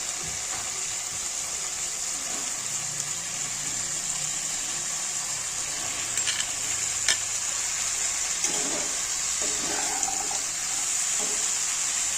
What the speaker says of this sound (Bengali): এবার আমি বাঁধাকপি এবং আলুটাকে দিয়ে দেবো।